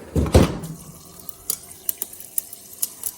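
Water pours into a cup already holding ice, a short close splash followed by a few sharp clinks and drips spaced over the next seconds.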